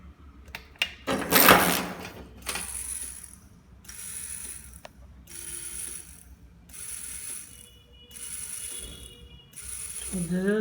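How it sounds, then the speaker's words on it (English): An automatic baby cradle swing motor runs in a repeating loop, giving short whirring, ratcheting bursts at a steady rhythm with brief pauses between them, after an initial louder clatter. "So this is the running of the motor."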